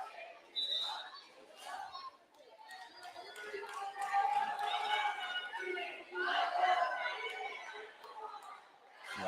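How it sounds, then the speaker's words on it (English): Crowd at a girls varsity high school volleyball match between Newberry and Engadine yelling and cheering in uneven surges, with chatter and voices mixed throughout, swelling and dipping over several seconds. "Crowd getting into it here."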